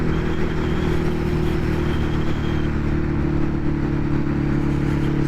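A Ducati Hypermotard 821 motorcycle engine stutters at low revs while riding, its low, uneven, pulsing drone running steadily throughout with a rough, clattery texture and no voices.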